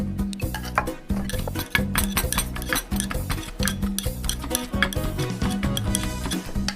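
Olive and chili dip being pounded in a mortar in a Luang Prabang–style kitchen: dense, repeated close knocks and scraping clatter of pestle against mortar, continuous and busy throughout with no talk.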